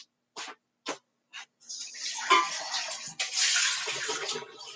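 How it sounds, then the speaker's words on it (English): Water runs from a household tap after a few short, sharp knocks, a soft, close hiss of flowing water that fluctuates slightly and continues to the end. "at least we still got running water"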